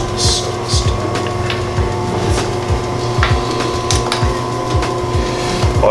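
Sewing machine stitching a leather duffle bag, a close rapid mechanical chatter of needle strokes running steadily with faint rubbing and handling noises over a low motor hum.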